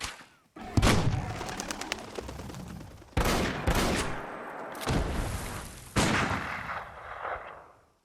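Gunfire bursts ring out in an audio drama, three loud clusters of sharp rapid shots, each decaying with echo before the next burst.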